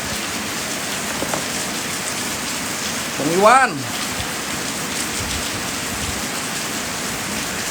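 Heavy rain hisses steadily across a public cemetery, a dense, even downpour close by, while a voice briefly calls out partway through.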